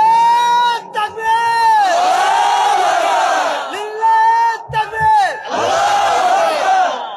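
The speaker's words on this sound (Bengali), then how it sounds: "দেন তাকবীর দেন" A large crowd shouts the takbir, Allahu Akbar, in unison as a response, with loud drawn-out chanted calls that rise and fall in several repeated waves.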